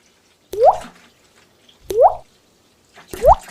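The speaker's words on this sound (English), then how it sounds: "whole container of almond milk, unsweetened. So there's 8 cups in here. I'll pour the whole thing." Unsweetened almond milk is poured from an 8-cup container. Three separate glugging gurgles come at regular intervals, each close and distinct, with quiet between them.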